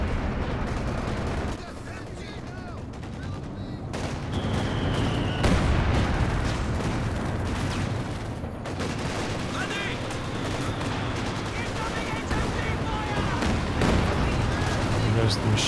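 Machine gun fire in Company of Heroes 2 during a 3v3 match, dense rapid bursts and gunshots rattling continuously through a loud battle soundscape, with voices talking over it.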